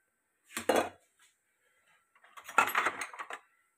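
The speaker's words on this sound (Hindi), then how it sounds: "तो हम चम्मच लेंगे," A metal spoon clinks against a cooking pot on a home stove burner while preparing zarda, a sweet Pakistani Punjabi rice dish; two short bursts of clattering metal sound close by, separated by a brief quiet gap.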